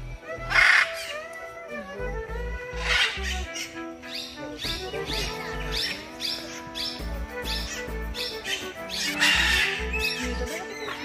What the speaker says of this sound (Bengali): এই ম্যাকাওগুলো খুব চেঁচামেচি করে।